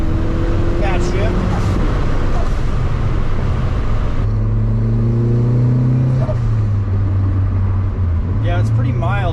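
A turbocharged Mazda Miata with a Racing Beat muffler accelerates from about 10 mph, its loud droning exhaust rising in pitch through the gears, heard from inside the car with voices talking over it.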